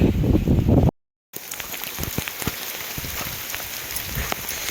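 Rain falls outdoors on a wet day, with a steady, close patter of drops across the whole clip. Heavier low rumbling at the start is cut by a brief moment of total silence before the rain continues.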